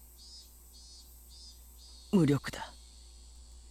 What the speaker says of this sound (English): The cicadas' voices raised in a chorus sounded like they were scoffing at me